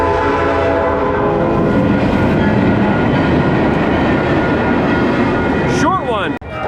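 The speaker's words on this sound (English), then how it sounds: "And we have a train." A train passes close by with a loud, steady rumble and rhythmic clatter on the rails, its horn sounding near the end before the noise cuts off.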